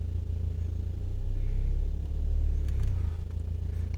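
A 1.8T turbocharged engine in an Audi A4 B5 Quattro runs with a deep, steady rumble close by. It swells slightly as it is revved, and no one speaks.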